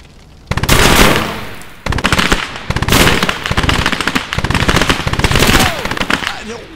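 Dense World War II battle gunfire in the game Call to Arms: Gates of Hell, with rapid machine-gun bursts and rifle shots crackling loudly and almost without pause. A few brief gaps break the fire, and no voices are heard.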